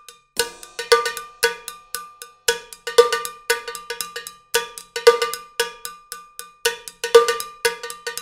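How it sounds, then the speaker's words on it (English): A cowbell layer in a drum recreation of a song plays a bright, ringing pattern of repeated strikes in a steady syncopated groove, loud and dry with no other sounds. "Cowbell, let's go."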